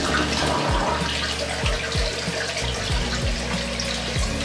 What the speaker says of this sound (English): I've already given a test flush, but just for the camera.